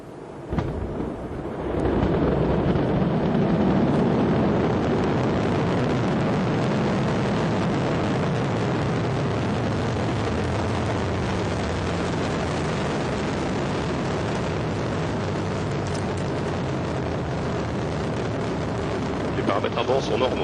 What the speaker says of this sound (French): You saw Ariane rise zooming off into the night sky